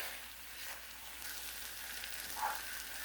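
Onions caramelize in a ceramic skillet, giving a soft, steady sizzle and faint frying crackle throughout, fairly quiet with no talking.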